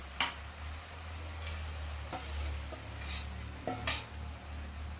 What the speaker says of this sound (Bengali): আর এখন আমি ভেজে রাখা চিংড়ি মাছগুলোকেও একসাথে দিয়ে দেবো